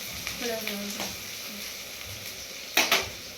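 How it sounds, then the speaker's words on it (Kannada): Coriander leaves and curry leaves fry in oil in a pan with a steady, close sizzle and some stirring, and a brief louder clatter near the end. "ಸ್ವಲ್ಪ ಕೊತ್ತಂಬರಿ ಸೊಪ್ಪು ಕರ್ಬೇವು ಸೊಪ್ಪು ರೀ ಅವನ್ನೆಲ್ಲ ಹಾಕಿ ಸ್ವಲ್ಪ ಫ್ರೈ ಆಗತ್ತೆ"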